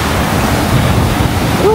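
Churning, roiling water of the Pampanga River rushes loudly and continuously, a dense broadband roar with wind buffeting the microphone.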